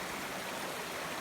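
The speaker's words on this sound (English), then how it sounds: "this creek is called Black Creek" Black Creek, a small creek over angular rocks, flows in a steady, soft hiss of running water, faint and continuous, with no voices.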